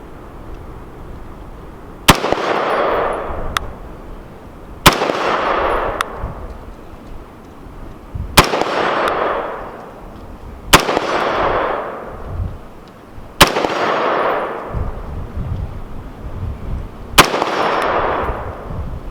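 An IWI X95 Tavor rifle fires at an outdoor range: six sharp, loud single shots spaced about three seconds apart, each followed by a short ringing decay.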